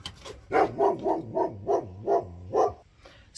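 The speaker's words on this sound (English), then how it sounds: "Pearl, come here, puppy. Come on" A small dog, a puppy indoors, gives a quick run of about eight evenly spaced, moderately loud barks in a steady rhythm, with nobody talking over them.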